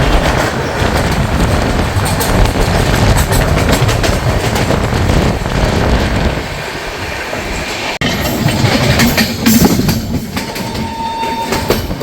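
The Darjeeling Mail passenger train rolls along the rails near Bidhannagar Road, a loud, continuous rumble with rattling wheel clatter heard from inside a general class coach, without voices.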